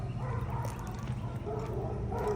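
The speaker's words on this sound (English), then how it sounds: "Now the dogs hear us, so they're all losing their minds." Several dogs bark and yip over one another in a dense, muffled clamor, somewhat distant and continuous throughout.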